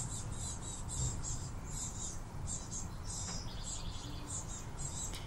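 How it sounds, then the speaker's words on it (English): Baby birds chirp repeatedly in a backyard with high, bright tweets over a steady outdoor hiss. The calls sound moderately distant, and nobody speaks. "If you hear some chirping,"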